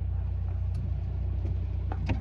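Traffic on a busy road during an Easter outing, with a steady low car engine rumble close by and faint passing-vehicle swells.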